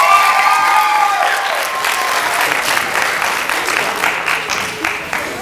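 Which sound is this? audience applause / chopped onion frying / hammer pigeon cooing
audience applause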